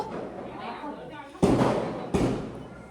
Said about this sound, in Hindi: पटाखों की इतनी आवाज़ आ रही है ना